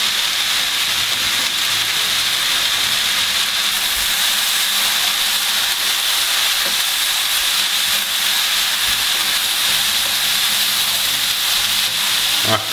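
Onions and mushrooms fry in oil in a pan with a loud, dense, steady sizzle and hiss that barely changes, apart from a faint clink near the end.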